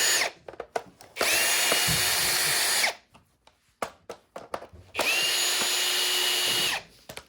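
A power drill unscrews fasteners from the underside of a Shark NV501 vacuum in two loud, sustained whirring bursts separated by short clicks, taps and handling noises, with no talking.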